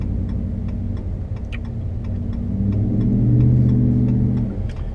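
A truck engine drones steadily while driving along a highway, a continuous low rumble that swells slightly louder toward the end, with faint ticking above it.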